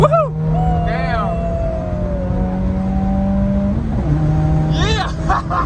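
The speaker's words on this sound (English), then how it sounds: "Just to make sure that the car pulls fine, we're gonna do a pull." A widebody Subaru WRX engine roars and pulls hard, its steady drone holding loud and close for several seconds while voices whoop and shout over it.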